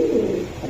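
A Pakistani Golden pigeon gives one short, soft, low coo at close range.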